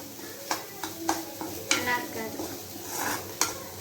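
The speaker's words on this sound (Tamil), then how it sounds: "இது நல்லா வதங்கிட்டு இப்போ இந்த தேங்காவை நம்ம இது கூட ஆட் பண்ணிக்கலாம்." Grated coconut being stirred into wilted spinach in a pan for a South Indian keerai poriyal, with a steady low sizzle under several sharp spatula scrapes and clinks against the pan, close and moderately loud.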